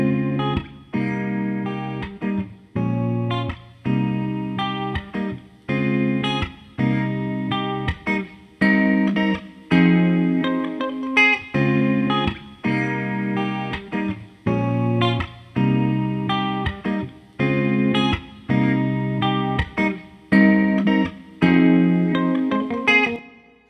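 Music shaped by a PSP E27 tone-shaping EQ plugin, a steady run of rhythmic chords and notes with a clear pulse, loud and upfront with a colored, saturated tone and no talking.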